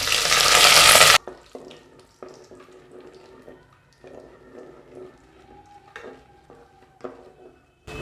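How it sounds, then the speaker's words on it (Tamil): Almonds and cashews with cinnamon, cloves and cardamom fry in hot ghee, starting with a loud burst of sizzling that drops to a quieter, steady crackle broken by scattered clinks and stirring sounds. "பாதாம், முந்திரியை நல்ல பொன்னிறமாக வறுத்துடலாம்."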